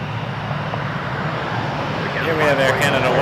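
An Air Canada Airbus A321 jet at Toronto Pearson Airport, its engine roar steady and rising toward the end, with radio chatter and voices over it.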